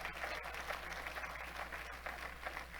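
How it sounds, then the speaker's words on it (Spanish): A church congregation applauding during a Spanish-language worship service, steady diffuse clapping heard at a distance over a constant low electrical hum, fairly faint and continuous. "Dele un fuerte aplauso al Rey de la Gloria conmigo."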